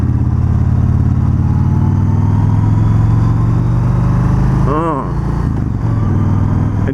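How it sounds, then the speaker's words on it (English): A Yamaha motorcycle idles with a deep, steady rumble from its exhaust, running continuously and close by, with a brief revving swell near the end. "It's not quite as loud as I want her to be, but oh, it's just so deep and rumbly."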